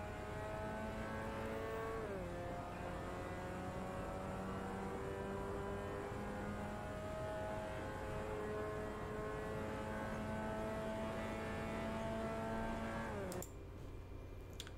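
A Mazda MX5 at full throttle on the Ahvenisto race track, heard from inside as a loud, sustained engine drone climbing in pitch with a gear change, then abruptly dropping off near the end.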